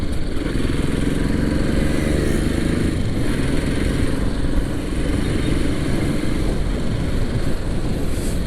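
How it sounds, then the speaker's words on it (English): A Royal Enfield Classic 500 motorcycle rides along with a steady, loud engine drone and heavy wind rush throughout, no voices heard. "my bike is riding like a charm now"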